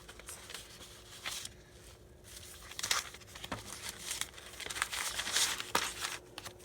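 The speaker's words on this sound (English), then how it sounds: "And then I'm going to cut this strip off." Scissors cutting a strip from folded craft paper for a junk journal, soft papery snips and crinkles close by, scattered in short bursts and fairly quiet.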